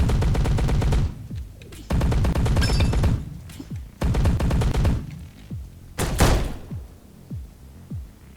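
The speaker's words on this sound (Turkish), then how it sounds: "Şuradan bir silah çıksın. Minigun çıktı yine." A minigun firing in the video game Grapples Galore, rapid dense bursts of automatic fire in several long volleys with short gaps between, loud and close, followed by a few scattered single impacts.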